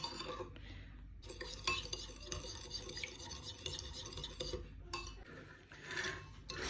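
Sushi rice dressing made with 9% table vinegar gets stirred in a small pot, a faint, steady scraping swirl with light clinks of a spoon, quiet and close.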